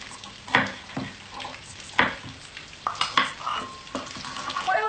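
Beef with yogurt, garlic and ginger is stirred in a pan: close, irregular scraping strokes of a spoon with a soft frying sizzle underneath, several distinct pushes a second or so apart, and no talk.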